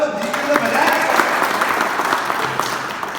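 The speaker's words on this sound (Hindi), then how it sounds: "ताली बजाओ तो जीवन में बजाए।" Audience members clap together at a live comedy and poetry stage show, brisk dense applause carrying across the whole stretch with a voice speaking over it.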